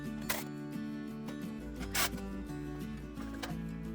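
A power tool removes M6 bolts with 8mm heads from the engine shroud of a diesel-electric golf cart. It gives a steady mechanical whir with several short, sharp zipping bursts as the bolts spin off.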